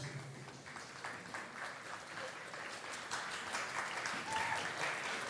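Continuous audience applause for digital filmmaking graduates at a graduation ceremony, a dense, even patter of many hands that swells slightly toward the end, with faint voices beneath.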